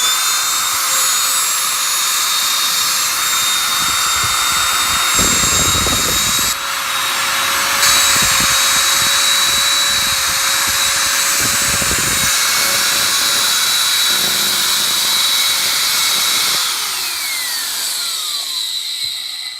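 An Ametek blower motor inside a Hoover Portapower vacuum cleaner runs loud and close with a steady high-pitched whine, shifting briefly in pitch partway through and winding down near the end.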